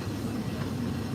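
A Magic Kingdom ride train at Disney rolls along its rails with a steady, dense rumble at close range, continuous and unbroken, with no voices.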